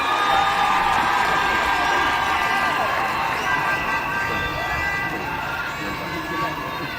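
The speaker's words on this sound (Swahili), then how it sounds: "Makofi tafadhali." A large crowd at a formal speech event cheers and claps, a dense, loud roar of voices and applause that fades slightly toward the end.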